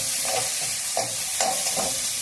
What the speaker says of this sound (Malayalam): ഇഞ്ചി, വെളുത്തുള്ളി ചെറുതായിട്ട് അരിഞ്ഞത്, പച്ചമുളക് ഇത് ചേർത്ത് കൊടുക്കാം. എന്നിട്ടൊന്ന് വഴറ്റാം